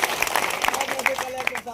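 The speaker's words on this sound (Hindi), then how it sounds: "जरा कलेक्टर साहब और एसपी साहब के लिए ताली बजा दो।" Crowd applause at an outdoor public gathering in Ashoknagar for flood-affected people, honouring the district collector and police superintendent: a steady, dense wash of many hands clapping throughout, with no talk over it.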